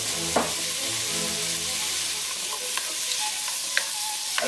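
Fish sauce hits a hot pan while Vietnamese beef stew is cooked, giving a steady loud sizzle with occasional stirring scrapes and clicks, close up and without talk.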